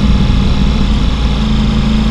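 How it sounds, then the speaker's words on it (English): Ducati Pikes Peak motorcycle fitted with an Akrapovic full titanium exhaust, riding with a loud, steady, deep engine drone, close and constant, no voices over it. "I just wanted you to hear the sound of that exhaust."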